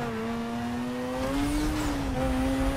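A car in the Need for Speed Most Wanted racing game, its engine humming steadily and then revving higher as it picks up speed, loud and continuous with no talking.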